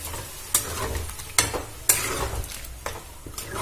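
Half-boiled yam and potato fry in a pan after water is added, giving a steady low sizzle broken by a few sharp scraping stirs, close and quiet with no talk.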